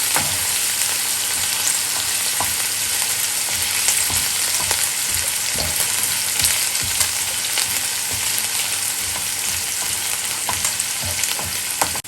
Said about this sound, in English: just let that sizzle